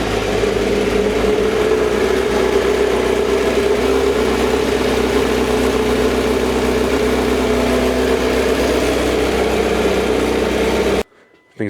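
A 2025 Honda CBR1000RR-R Fireblade SP engine with stock exhaust idles steadily with a low, even rumble, then cuts off abruptly near the end.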